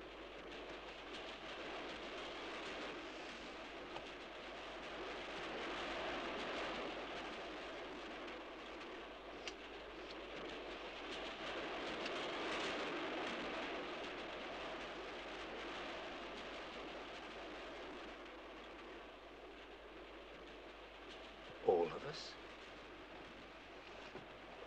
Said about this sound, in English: It's this train. It's gonna crash.